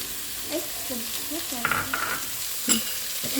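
Kikiam frying in oil in a pan, hissing and spattering steadily up close while a utensil stirs and knocks against the pan now and then.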